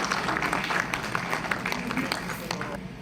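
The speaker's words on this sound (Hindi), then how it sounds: "तालियों से उनका स्वागत" Applause from an audience welcoming a brigadier guest at a special film screening, a dense, steady wash of clapping that fills the space, with some crowd noise mixed in.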